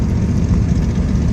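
A motorcycle engine held under throttle, a continuous low heavy rumble close by, steady and loud through the whole moment.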